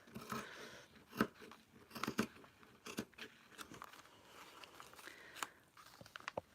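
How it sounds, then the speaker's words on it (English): Scissors snip through handwoven, handspun fabric while cutting a garment sleeve all the way around, a series of close crunchy cuts with irregular sharp bursts and pauses. "I am just going to cut my sleeve all the way around."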